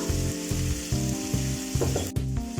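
Mutton fry sizzles steadily and loudly in a pan as spices are stirred in, with a continuous hiss broken by brief scraping stirs and a short clatter near the end.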